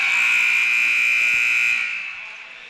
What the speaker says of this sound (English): And the halftime buzzer sounds.